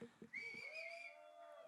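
Shrill whistling from an audience at a live performance of a Bollywood song from Bunty Aur Babli 2, one long rising whistle held over a faint background after a few brief bursts of noise.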